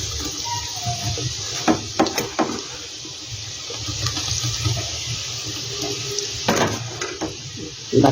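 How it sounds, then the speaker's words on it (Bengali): Soybean pakoras fry in a pan of oil with a steady, hissing sizzle throughout, punctuated by occasional clinks and scrapes of a utensil against the pan. "আর বাকিগুলো আমি একইভাবে ভেজে নেব।"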